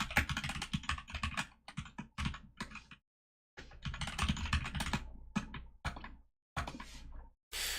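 Rapid typing on a mechanical keyboard, bursts of close, crisp key clicks separated by short pauses, with no speech.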